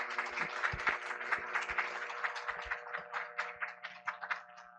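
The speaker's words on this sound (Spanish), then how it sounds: "Un fuerte aplauso, por favor" A festival panel audience applauds, with a quick patter of many hands clapping at moderate distance that thins toward the end, set against a faint steady hum.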